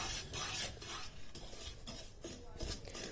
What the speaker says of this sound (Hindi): अब मीडियम फ्लेम पर इसे सूजी को थोड़ा सा भून लेना है